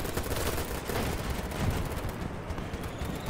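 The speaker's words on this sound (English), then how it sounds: "I'm just using my pistol because I want to unlock" Dense, continuous gunfire from a BattleBit Remastered match, with pistol shots blending into a steady wash of overlapping shooting that stays loud and busy throughout, no clear gaps between reports.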